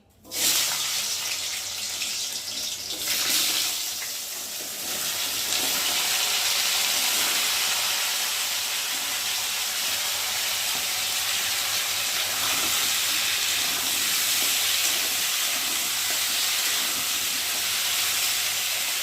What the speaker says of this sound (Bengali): আলু আর কচু প্রথমে ভালো করে একটু ভেজে তুলে নেব